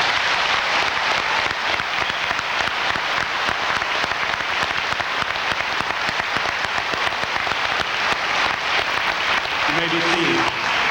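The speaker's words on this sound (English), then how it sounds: "Please give them a round of applause." Audience applause at a 2001 graduation ceremony, loud and continuous crowd clapping filling the whole stretch, with a few voices audible near the end.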